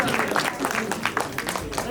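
An audience at an awards ceremony breaks into a short burst of dense clapping, with a voice speaking over it.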